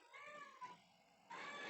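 A house cat meows outside, wanting to be let in, with two or three drawn-out, faint cries and no talk over them.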